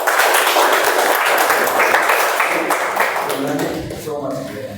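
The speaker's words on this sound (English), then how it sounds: "Can we have a round of applause for him, please?" An audience at a community meeting claps in a round of applause, loud and sustained at first, then thinning out as a voice begins speaking over the fading claps.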